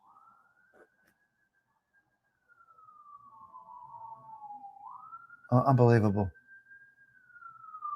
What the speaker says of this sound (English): Enough with the fucking sirens, guys.